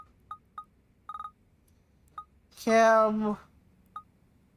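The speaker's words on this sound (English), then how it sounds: "Can I actually make a phone call?" A phone being dialed in the video game Judgment, short electronic keypad beeps in an irregular sequence, with a brief spoken voice in the middle, near and clear.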